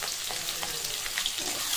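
Chopped onions hit hot oil with bay leaves and fry in a steady, dense sizzle throughout, with faint stirring clicks and no talking, as onions cook for a jackfruit curry.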